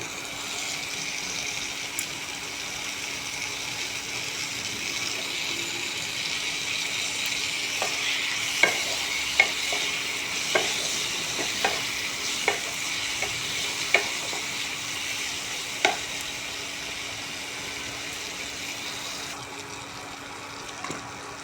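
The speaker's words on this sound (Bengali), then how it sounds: "আর পরিমাণ মতো একটু চিনি। আর টমেটো কুচি দিয়ে" Chopped tomatoes and a little sugar sizzle and fry in a pan, with a steady hiss and a run of clear spatula scrapes and clicks as they are stirred, close and alone without any talking.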